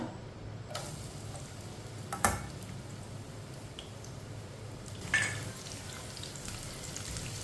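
Finely chopped onion fries in about three spoons of oil while a spoon stirs it, making a steady close sizzle with soft scraping strokes and a couple of brief clinks.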